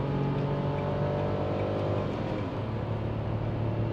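A Dacia Sandero SCe 65 engine pulling hard after a double downshift to overtake, a steady loud in-cabin drone whose pitch climbs slowly as the car accelerates.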